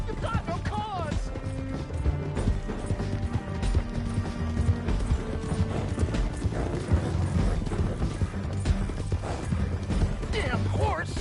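Horse hooves clop steadily in a PS4 video game, mixed with game music, voices and other effects throughout.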